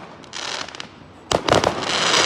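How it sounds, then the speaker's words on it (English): Bonfire night fireworks crackling and popping outdoors, a burst of rapid crackles followed after a short lull by louder sharp bangs and sizzling crackle, fairly close. "I'm arguing with a firework, for God's sake."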